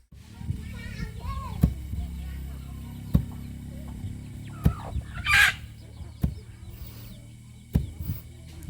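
Chickens cluck and a rooster crows around a rural yard where rice is hand-pounded; dull, evenly spaced thuds land every second and a half beneath the birds, with a brief burst of louder calling midway.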